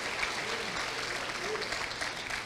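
A church congregation applauds during a worship conference, a sustained dense wash of clapping from many hands at even loudness throughout, with faint voices mixed in.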